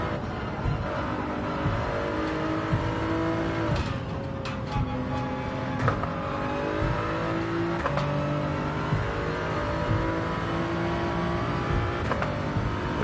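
A race car in Gran Turismo 7 accelerates with a steady, loud engine drone, its pitch rising through repeated gear changes with brief shifts, heard alone and continuous.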